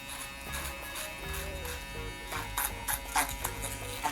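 Electric hair clipper buzzing steadily while trimming along the hairline during a haircut, a close continuous hum with brief louder bursts.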